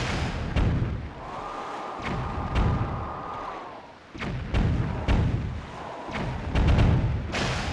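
Repeated booming cannon shots from a cannon ship in The Legend of Zelda: The Wind Waker, several heavy thuds spaced through the stretch alongside game music, fairly loud and close.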